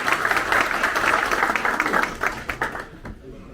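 Crowd applause for the mayor at a businessmen's association gathering after evening prayers, a burst of clapping that is loud at first and then tapers into scattered claps, with voices mixed in.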